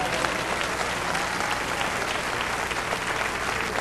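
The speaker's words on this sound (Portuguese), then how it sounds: "Aplausos para Deus!" A church congregation breaks into steady, dense applause that fills the whole space at a consistent loudness from start to finish, with no talking standing out above the clapping.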